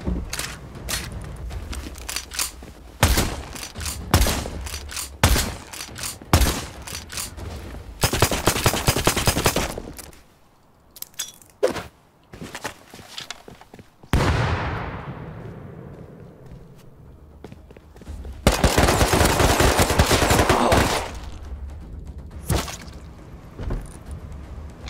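Rifle gunfire in the survival game Rust crackles in rapid close volleys and single shots, broken by a quieter lull and a sweeping whoosh before another dense burst of fire.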